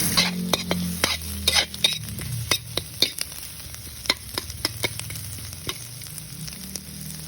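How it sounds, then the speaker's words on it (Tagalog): Onions sizzling and frying in a pan while being stirred, with a steady hiss and scattered sharp clinks and scrapes of a utensil against the pan, close up and without talk. "Piprito na natin yung sibuyas."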